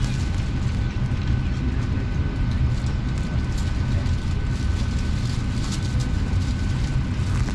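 Steady loud roar of an Air India Express airliner cabin waiting before takeoff at Calicut airport, a dense broadband engine and ventilation hum running unbroken throughout with no distinct events.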